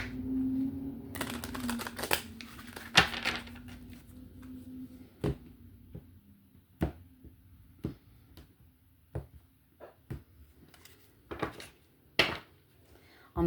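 A deck of tarot cards is shuffled by hand in sharp, irregular bursts of riffling and tapping clicks, some louder than others, with pauses between and a low hum underneath.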